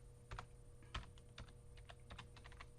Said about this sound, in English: Now let's type it.